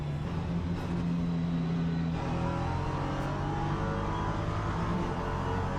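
The engine of an Ades 8025 LMP3 race car in a racing video game drones steadily and loudly throughout, holding a fairly constant pitch with slight shifts and no voice over it.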